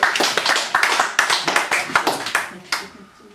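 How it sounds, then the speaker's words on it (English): A poetry-night audience gives poet Jill Abram a small round of applause: scattered individual hand claps, fairly close and uneven, thinning out and fading to near silence by the end. "So more applause please for Jill Abram."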